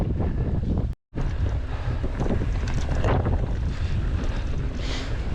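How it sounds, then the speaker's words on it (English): Strong headwind roars across the microphone while mountain biking the Halo Trail on Peavine Mountain near Reno, a loud continuous rushing buffet that cuts out for a split second before resuming. "in the wind tunnel right now. Massive headwinds we've had."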